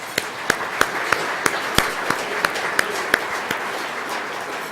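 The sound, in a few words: audience applause at an awards dinner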